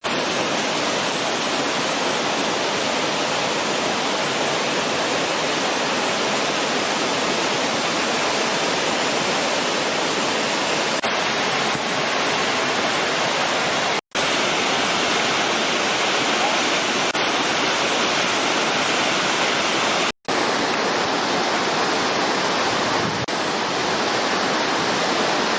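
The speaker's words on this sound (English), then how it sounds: "I'm sure you can hear the waterfall really well." A steady, loud roar of falling water fills the whole stretch, a constant rushing hiss with no pauses apart from two brief dropouts.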